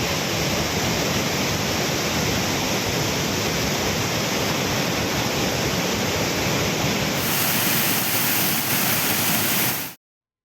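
The Manimutharu waterfall runs in flood, a loud, steady roar of heavy falling water that holds unbroken until it cuts off abruptly near the end.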